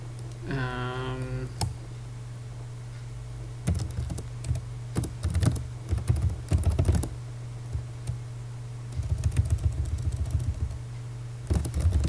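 Typing on a computer keyboard in short bursts of quick clicking keystrokes separated by quiet pauses, close, over a low steady hum.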